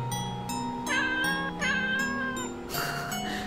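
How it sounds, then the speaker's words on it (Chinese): Cat meows in the game LiEat II, three drawn-out tonal mews in a row over a steady synth music background, fairly clear and close. "为什么是猫叫？"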